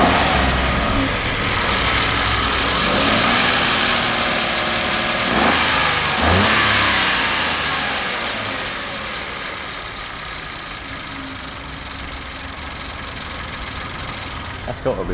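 Small Kia Picanto engine running with a noisy, worn bearing, a steady mechanical whir and rumble with a couple of brief revs midway, heard up close throughout.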